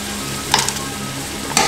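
Tomatoes tipped into a pot of vegan chili on a stove that has just been switched off, giving a soft steady sizzle with two brief bursts of stirring or pouring, close and with nobody talking.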